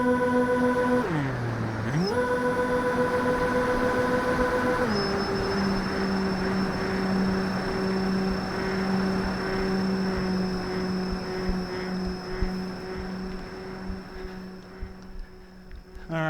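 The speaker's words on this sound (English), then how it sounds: "it's in the air and it is doing an absolutely beautiful return to home right now" Reptile Dragon II FPV drone flying on a return-to-home, its propellers giving a steady, loud, sustained whine whose pitch dips briefly and then settles, with no talk over it.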